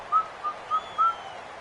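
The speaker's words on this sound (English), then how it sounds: "And now whistles and a flag" Short whistle blasts during a football game broadcast: four quick, fairly loud chirps in an uneven rhythm over a steady crowd and broadcast murmur.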